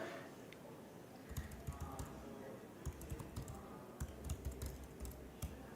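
Computer keyboard typing at a developer's desk, entering an npm run command: quick bursts of close, crisp key clicks in irregular clusters with short pauses, no speech.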